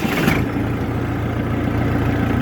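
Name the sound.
Jinma 404 mini tractor engine idling at 900 rpm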